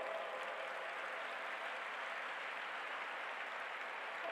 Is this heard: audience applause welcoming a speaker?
yes